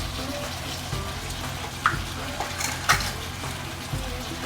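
Curd being stirred into chicken biryani masala in a pot, a steady low mixing churn with soft sizzle and a few brief scraping clinks, close and moderately quiet, no talking.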